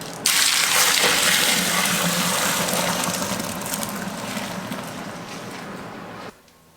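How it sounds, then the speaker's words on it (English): Beer kit wort from a Mangrove Jack's kit, mixed with a dry malt enhancer, is poured into a home-brewing fermenter as a loud, close, continuous gushing splash that runs for several seconds and then stops abruptly. "Next step is just pour it in the fermenter."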